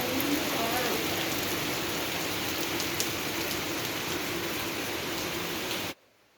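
Steady rain pouring down outdoors in Kerala, a dense even hiss that holds for about six seconds and then cuts off abruptly.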